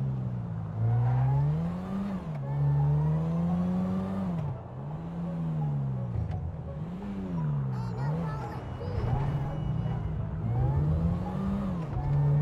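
A car engine in GTA V rises and falls in pitch as it accelerates and slows through turns, a steady droning engine note that continues throughout, with occasional speech under it.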